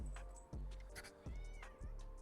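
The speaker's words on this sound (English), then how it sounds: "My cat's being crazy." A pet cat meows loudly and insistently, three or four drawn-out calls in a row close to the microphone, with no talk over them.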